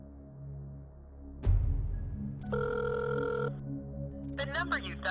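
A phone call is placed to a number not in service and a ringing tone sounds, a steady sustained electronic tone with harmonic bands after a sharp click, then a short patterned signal, with faint background hum.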